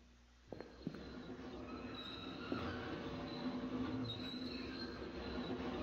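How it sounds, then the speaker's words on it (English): A train rumbles past with a rising roar and faint squealing wheels, preceded by a few sharp clicks, in the video game Lost in Vivo. "No, that's the train."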